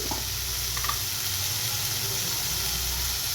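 Spice masala frying in a pan with a little water added, a loud continuous sizzle and steamy hiss, close and even, with faint stirring touches early on.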